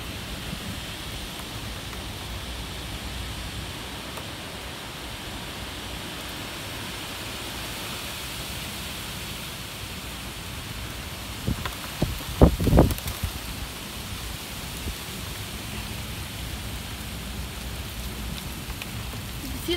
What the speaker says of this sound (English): Penny sized hail and rain